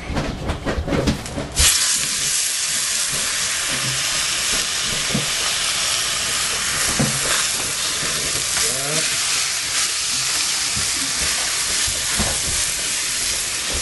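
Pork steaks sizzle loudly and steadily on a hot smoker grate, a dense continuous frying hiss that swells as the meat goes down, with occasional clinks and shuffles.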